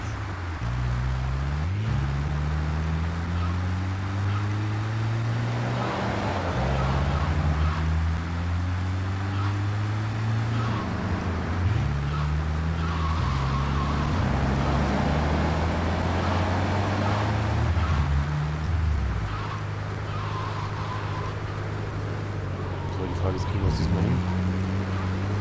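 A car engine drones steadily in GTA III while driving back toward the harbour, its pitch climbing and dropping through repeated gear shifts, with someone talking over it.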